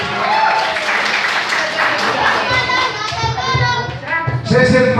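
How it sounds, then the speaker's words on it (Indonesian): An audience claps at the end of a session at a church event, with a steady patter of applause mixed with people's voices and children's chatter. "Tepuk tangan dulu yang kedua."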